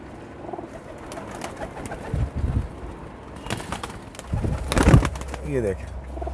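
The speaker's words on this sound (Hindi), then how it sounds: "देखिए ये एक कबूतरी हमने पकड़ी है जी" Teddy pigeons coo softly in the background while people talk nearby, with a few rustles and wing flutters.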